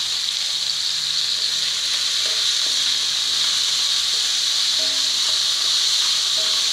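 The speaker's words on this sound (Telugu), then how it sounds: "ఆనియన్ కొద్దిగా వేగాలండి" Onions with green chilli and curry leaves frying in a pan while making brinjal fry, a constant close hiss and sizzle with faint clinks of a spoon, no talking.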